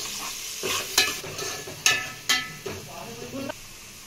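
Onions, fenugreek seeds and curry leaves frying in oil for a fish curry, a soft sizzle broken by several sharp spatula strikes and scrapes against the pan, close.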